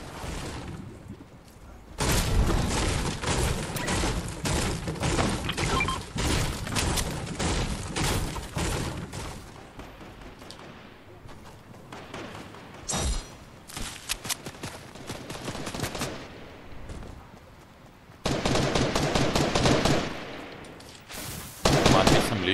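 Gunfire rings out in the Fortnite battle royale video game: dense bursts of rapid shots, then scattered single reports and a final flurry. A player talks over the shooting.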